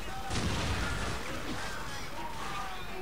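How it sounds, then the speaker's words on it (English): Call of Duty 4 flashbang grenade going off, a loud sharp bang followed by a ringing, dense wash of noise, with a voice heard briefly. "Flashbang out!"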